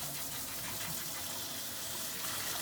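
Water gushes steadily into a soaking bath being filled for cleaning parts, a dense, continuous pouring rush at close range with no talk over it.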